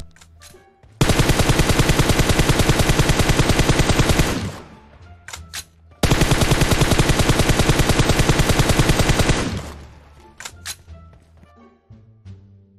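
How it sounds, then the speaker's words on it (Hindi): Continuous automatic gunfire sprayed at a single tree in the BGMI video game, in two long rapid bursts of about three seconds each, loud and close, with scattered single shots and clatter between. "वहाँ पे एक सिंगल पेड़ पे कंटिन्यूस फायर देके रहना है"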